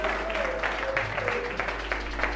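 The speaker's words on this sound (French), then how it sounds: "Tu peux acclamer pour lui." A church congregation applauds after a bishop's prayer, a thin patter of claps under a low hum and faint voices, moderately distant and soft.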